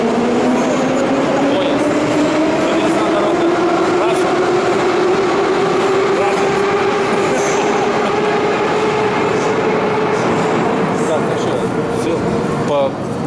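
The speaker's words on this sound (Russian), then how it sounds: "Поезд пойдет оттуда." A train pulls away in Gorky Park, Moscow, with a rising electric whine over a continuous loud rumble and faint rail clatter, no voices clearly heard.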